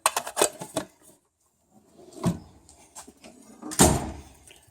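A Snap-on toolbox drawer loaded with large screwdrivers slides and clatters, with rattling tool impacts at the start and two louder rolling, thudding pulls later, close by and without talk.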